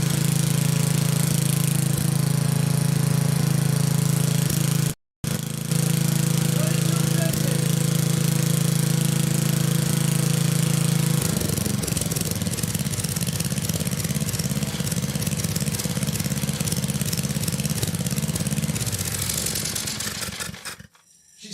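A small gasoline engine fitted with an aftermarket carburetor runs steadily and loudly up close, with a strong low hum that drops out briefly once and then shifts to a rougher, changed speed as the governor is adjusted.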